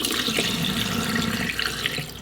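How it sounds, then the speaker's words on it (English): Rinse water from rice pours off into a sink, splashing and running steadily in a continuous rushing pour with no voices. "Pour off your water."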